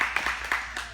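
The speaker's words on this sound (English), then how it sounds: "Get a round of applause for that." Scattered clapping from a seminar audience on women's health, a few distinct claps spread over a second with a thin, sparse patter rather than full applause.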